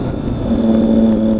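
A Triumph Daytona 675 sports motorcycle engine revs in a brief, loud burst, the pitch climbing and holding as the throttle opens, close to the listener.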